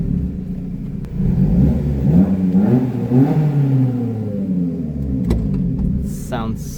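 A Lotus Elise four-cylinder engine revs hard inside an enclosed garage tunnel, a loud booming rumble rising and falling in pitch with echoing reverberation, close to the listener, then settling as a short blip of noise follows.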